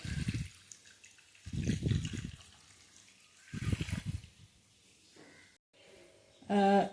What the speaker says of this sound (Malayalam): ഇനി നമുക്കിതിലേക്ക് ആക്കി വെച്ച തേങ്ങാപ്പാൽ ഒഴിച്ചു കൊടുക്കാം